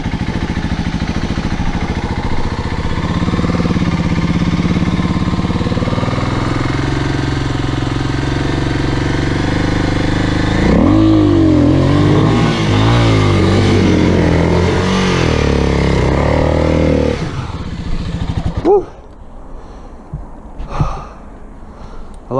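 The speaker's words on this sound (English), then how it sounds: "A lot of tire spin on that." Dirt or trail motorcycle stuck climbing a hill between trees, engine revving hard and steadily with tire spin, surging louder midway before cutting back to quieter idle blips and rustling near the end.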